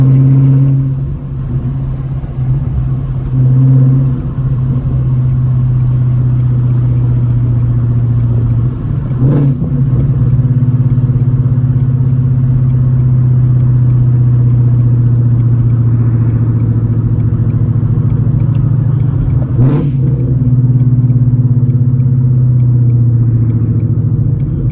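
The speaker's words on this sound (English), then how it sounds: "I got the windows down so I can hear the exhaust" A Ford gen 3 Coyote engine rumbles low and steady from inside the cabin with windows down, a couple of brief revs rising above the constant exhaust drone.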